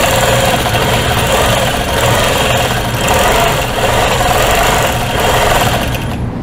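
A sewing machine free-motion quilting Dresden Plate blocks runs loud and close, a fast continuous mechanical whir with gentle surges in speed across the whole stretch.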